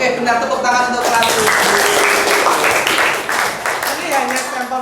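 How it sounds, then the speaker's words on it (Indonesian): Junior high school students in a seventh-grade math classroom break into clapping, a dense, steady burst that tapers slightly near the end, with voices talking and calling out over it. "Tepuk tangan untuk kelas."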